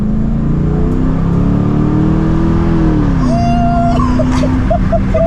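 A loud Corvette C6 engine revs, its pitch sliding down as it downshifts, then settles into a steady drone with faint chirps on top.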